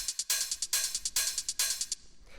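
Crisp hi-hats from an industrial techno track, a steady run of bright, hissy ticks with accented open hits on the upbeats, loud and alone, cutting out near the end.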